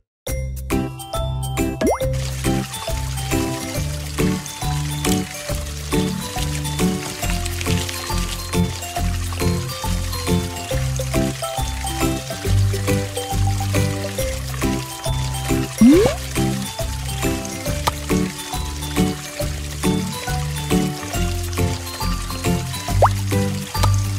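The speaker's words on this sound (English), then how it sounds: "Time to wash our hands." Running tap water splashing and tinkling during hand-washing in a cartoon bath-time kids' game, heard steadily throughout under cheerful looping background music.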